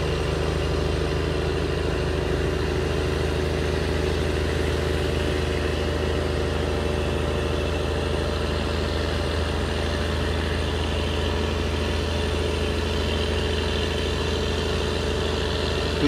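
An N14 diesel engine aboard a river barge runs steadily for the whole stretch, a loud, even low drone with constant humming tones and no change in pace, with no one speaking.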